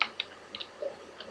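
Fingers tap out text on a computer keyboard while entering data into a Microsoft Excel cell, a short burst of light, close keystrokes in an uneven rhythm with no talk.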